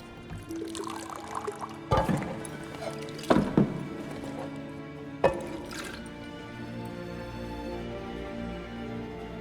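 A drink is poured in The Witcher 3, a soft liquid pour amid several sharp knocks and clatters over a steady background score.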